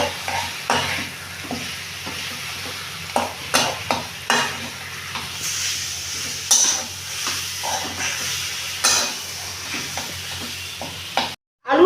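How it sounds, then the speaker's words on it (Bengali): Boiled potato stirred with spices in a hot pan for a potato filling, a steady sizzle under repeated scraping strokes of a spoon against the pan. "এবার সেদ্ধ করে আলুটা দিয়ে দিলাম মশলাগুলোর সঙ্গে নাড়ব"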